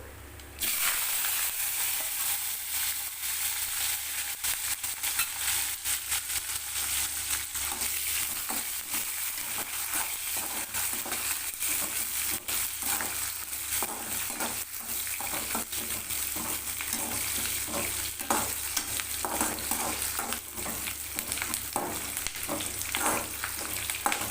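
Sliced big onions with curry leaves, dried red chillies and popped mustard seeds sauté in oil, a constant close sizzle broken by frequent scraping and stirring strokes of a spoon against the pan.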